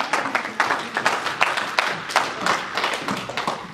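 Church congregation clapping for Jesus, a run of quick, uneven handclaps and slaps at close range, loud and lively with no clear speech over it.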